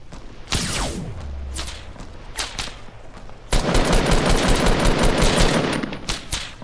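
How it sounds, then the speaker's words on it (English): Rapid bursts of gunfire crack in Fortnite, scattered single shots followed by a long dense stretch of automatic fire, loud and close, with no talking during the shooting. "Where the hell is he shooting from?"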